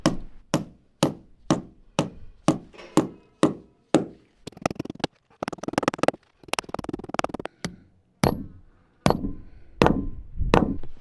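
Wedge anchors being hammered into a concrete slab to secure a Costco Yardistry gazebo, a long run of sharp close metallic hammer blows in a steady rhythm, some in quick flurries, with short pauses between groups; no talking.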